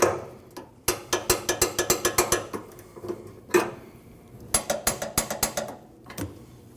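Ratchet wrench tightening the fuel tank strap bolts on a Nissan NV2500 5.6L V8 van: close, crisp clicking in quick rhythmic runs, separated by short pauses and a few louder clanks.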